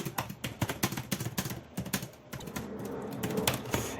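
Rapid, uneven keystrokes on a computer keyboard while code is being written, a close steady patter of clicks with short pauses and no voices.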